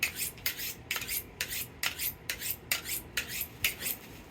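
Knife being drawn through a handheld knife sharpener, with about nine rhythmic gritty rasping strokes roughly every half second, close and loud and without talk.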